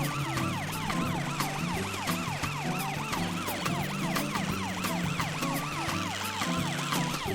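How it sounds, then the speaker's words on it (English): A cartoon ambulance siren wails in a steady, repeating two-tone pattern. It sounds close and loud over a low engine rumble, and it carries on throughout without any voices. "Amber the ambulance must have seen what happened."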